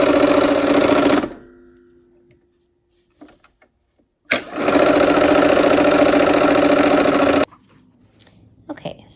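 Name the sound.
sewing machine sewing a 1/4 inch seam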